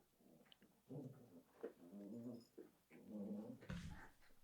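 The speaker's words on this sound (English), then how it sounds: "You guys can probably hear the dogs playing." Dogs playing indoors at home, with short growls, whimpers and yips coming in bursts at moderate distance, fairly quiet.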